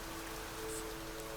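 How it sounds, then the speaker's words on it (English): Steady rain falls in the video game Niche, a soft even hiss throughout with no talk. "It is raining quite a bit."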